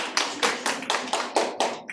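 Preschool children in a kindergarten music class clap in unison, about seven crisp rhythmic claps spaced evenly, each a sharp burst with quick decay.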